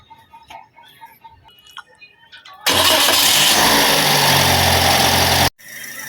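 A car engine cranks and catches after a spark plug change, jumping from quiet clicks and handling noise into a loud, close, steady idle roar that cuts off abruptly before settling again.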